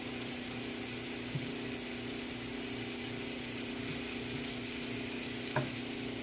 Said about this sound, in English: You just leave it to fry for 5 minutes on each side